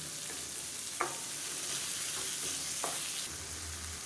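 Onions, tomatoes, salt and tamarind sauté in a pan for a spicy South Indian chutney, giving a soft constant sizzle with a couple of faint spoon scrapes, quiet and close, no talk.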